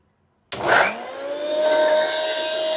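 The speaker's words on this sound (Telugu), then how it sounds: "ఇప్పుడు ఈ పచ్చడిని కొంచెంగా మిక్సీ జార్లో వేసుకొని మిక్సీ పట్టుకుందాం." A kitchen mixer grinder starts abruptly and runs loud and steady, whirring as it blends homemade long-storage tomato pickle in its jar, with a rising motor whine and no talk.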